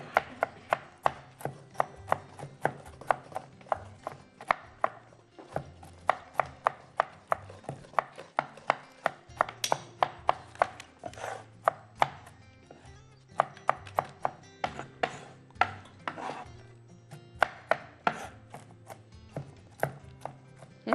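Food is chopped into small pieces with a knife on a board for soft orange and walnut biscuits, making dense, quick, rhythmic close taps that keep going with brief pauses.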